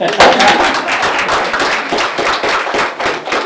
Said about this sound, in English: you can clap for me too